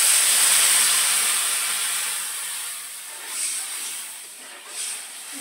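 Steady loud sizzling hiss as water hits hot fried spice masala in a pan for fish curry, fading slowly with a couple of small flare-ups.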